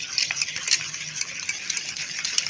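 A spoon scrapes and clicks around a bowl while mayonnaise is stirred into a cool salad, a close, steady run of small clinks and soft mixing sounds.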